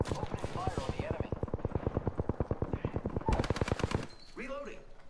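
Rapid automatic gunfire in Apex Legends, a long evenly spaced stream of close, loud shots that pauses briefly and then resumes in a faster burst before stopping, with brief voice callouts layered in.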